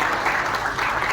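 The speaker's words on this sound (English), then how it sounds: "ladies and gentlemen, have a big round of applause for" Indoor audience applause for Dr. Yogen Singh at an event in Dehradun, a continuous, fairly loud spread of clapping with no voices over it.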